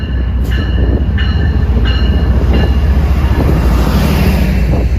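An MBTA MPI HSP46 locomotive-hauled commuter train bound for Greenbush rumbles past close by, loud and continuous, with rhythmic wheel clatter and faint squealing over the roar.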